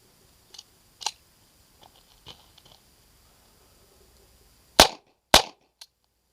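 A USFA Zip .22 rifle firing Remington Thunderbolt rounds: two sharp, loud cracks about half a second apart, then a softer click, after a few faint earlier clicks and handling noises.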